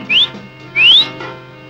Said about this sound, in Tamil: விசில் அடிக்கிறியா?